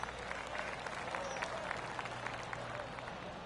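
Polite golf clap from a gallery of spectators at a golf tournament, a soft, scattered patter of hands that stays faint and steady throughout, with a low hum and murmur in the background.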